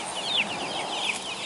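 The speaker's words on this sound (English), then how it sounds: "it appears there are more chickens out than in" Chickens cluck and chirp softly in an outdoor farmyard on a rainy, stormy evening, their short calls rising over a steady background hiss of rain.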